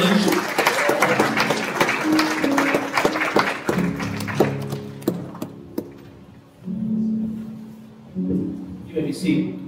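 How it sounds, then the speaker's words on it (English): Applause at a memorial service breaks out in the first few seconds and then fades into scattered claps, with voices talking over the later part. "how about an applause"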